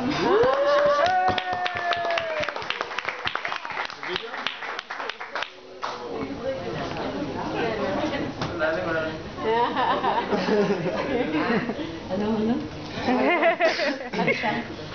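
An audience breaks into clapping after a speech, first sparse distinct claps, then a fuller steady round of applause with some laughter and voices mixed in.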